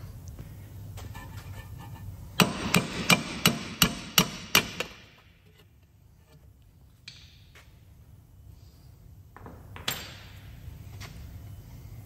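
A hammer strikes a Ford Focus MK3 rear wheel bearing hub about seven times in a steady rhythm, each whack a sharp metallic ring, close and loud, followed by quiet with a couple of faint later clanks.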